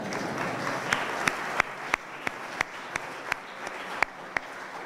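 Audience applause at a college graduation conferring ceremony in Cork, a steady wash of many hands clapping, fairly loud and sustained, with a few sharper individual claps and whoops popping out above it; no speech over it.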